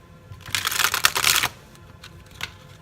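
A quick burst of riffling, flapping card noise lasting about a second, followed by a few soft taps and light handling sounds.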